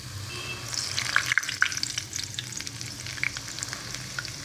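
Moong dal fries in very hot ghee, giving a loud, steady sizzle with sharp crackles and pops near the pan and no voices.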